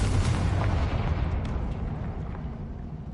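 A Confringo spell blast in the video game Hogwarts Legacy, a loud, full booming explosion that rumbles on and slowly fades across a few seconds, with no talking over it.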